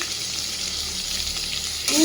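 Close, steady sizzle of a thick spice paste with tomato, turmeric and salt sautéing in a hot pan, a dense hiss with a brief stir at the end.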